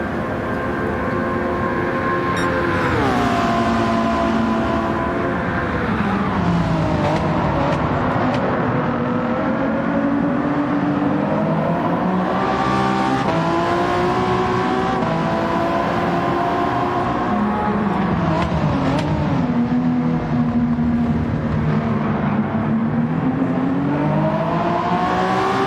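Race cars roar past a Mustang during a replay of the Rolex 24 endurance race at Daytona in Gran Turismo 7, engines loud and continuous with rising and falling pitch as cars pass and shift, with no talk.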